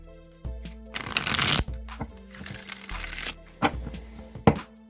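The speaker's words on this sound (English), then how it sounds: "I'm going to go ahead and shuffle the Rider-Waite deck a few times" A Rider-Waite tarot deck is riffled and shuffled up close, producing bursts of fluttering card slaps separated by brief pauses and a few taps as the cards are squared.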